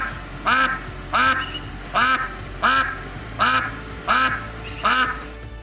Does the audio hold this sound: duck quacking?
yes